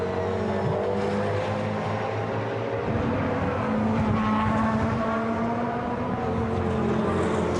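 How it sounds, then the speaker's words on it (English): Ferrari 458 Italia GT race car at Monza in the 2011 Blancpain Endurance Series, a loud, sustained engine howl with rising and falling pitch sweeps as it passes through the Lesmo corners, mixed with other cars. "Through the second of the Lesmo corners goes the number 20 Ferrari 458 Italia"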